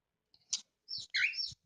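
A baby parrot makes a few short, high chirps and squeaky tweets at close range, separated by brief silences, with a light click or two mixed in and no talking.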